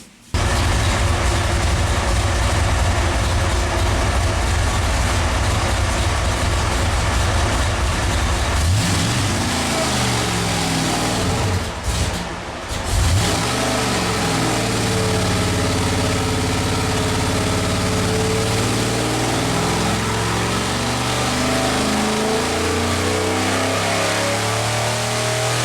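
A 451 cubic inch Mopar stroker V8 from a 1973 Dodge Charger roars on a dynamometer, loud and sustained at high revs, then drops and sweeps through changing engine speeds, close and dominant with no talk.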